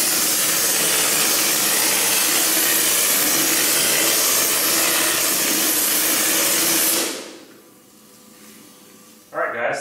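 An air compressor feeds a hopper gun spraying drywall texture onto walls and ceilings, a loud continuous hiss for about seven seconds that cuts off abruptly, leaving a quieter hum before a short burst at the end.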